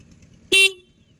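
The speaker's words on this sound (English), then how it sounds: "I can honk from here." A single short, loud toot from the horn of a TVS motorcycle about four or five years old, sounded once and fading quickly into quiet.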